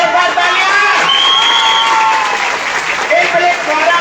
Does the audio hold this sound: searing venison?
no